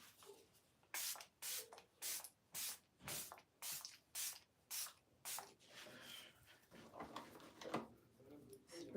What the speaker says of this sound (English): We're going to spray down.